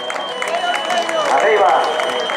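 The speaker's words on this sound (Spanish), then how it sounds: "Seguimos ese aplauso, vean, ya ven esas palmas" A crowd at the XXXII Carreira popular road race in Meaño, 2016, claps steadily as a voice talks over the continuous wash of applause.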